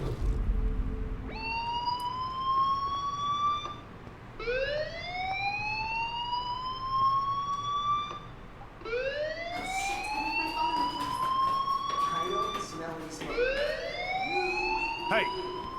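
Fire alarm in the video game Life is Strange, a siren that rises in pitch again and again in repeated sweeps, fairly loud and continuous with faint background under it.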